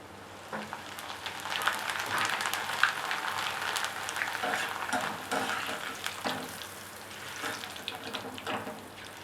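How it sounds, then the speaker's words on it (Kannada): Hot oil sizzles and crackles up close in uneven bursts of bubbling as flattened rice (avalakki) deep-fries in batches and gets stirred in the pan. "ಬ್ಯಾಚ್ ಬೈ ಬ್ಯಾಚ್ ಇದನ್ನು ಹಾಕ್ಕೊಂಡು ನಾನು ಡೀಪ್ ಫ್ರೈ ಮಾಡ್ಕೊಳ್ತೀನಿ"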